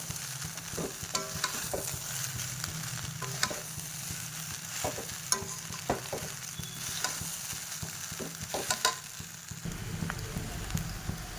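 Food with sugar and turmeric being stirred in a pan, a soft continuous sizzle with repeated scraping strokes of the spoon, fairly quiet and close throughout.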